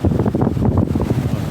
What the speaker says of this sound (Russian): Ветер сегодня мощный